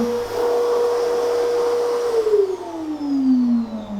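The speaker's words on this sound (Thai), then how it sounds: "ทำไมลูกมาดูดฝุ่นนะฮะทำไมมาดูดฝุ่น" A household vacuum cleaner runs indoors with a loud, steady motor drone that holds for about two seconds, then sags lower in pitch as the motor slows, with no talking.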